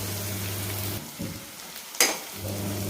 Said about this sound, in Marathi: आपण आता ह्या कांद्याला छान परतून घेऊ